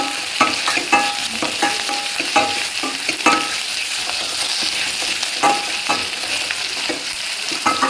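Chicken curry made with Annapoorna masala, with curry leaves just added, sizzles in the pot while a spoon stirs and scrapes in quick, irregular strokes, close and fairly loud with no voices.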